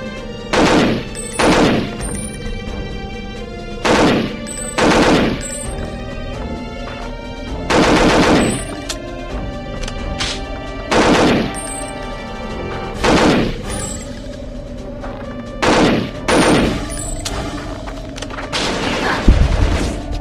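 Gunfire from the Perfect Dark video game, heard as loud repeated bursts of rapid automatic shots with short pauses between them, continuing throughout with no talking.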